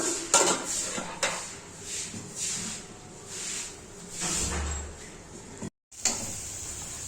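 A lid set onto a pot of vanchiram fish curry on the stove: a sharp metallic clink near the start, then softer clatter and knocks of cookware, a brief silence, and a final light clank.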